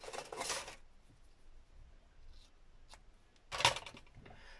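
Scissors snip through paper and lace strips for junk journal embellishments, two short bursts of crisp cutting separated by a quiet pause, close and fairly soft.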